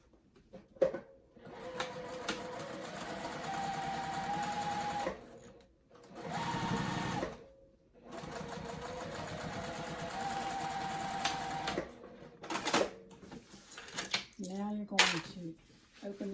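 A sewing machine top stitches a zippered crossbody bag in long steady whirring runs separated by short pauses, close and loud, with someone talking in between and small clicks of handling the fabric.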